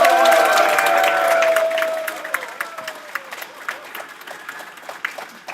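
An audience of elders at a youth leadership academy launch ceremony breaks into applause, loud at first amid crowd murmur, then thinning to scattered individual claps.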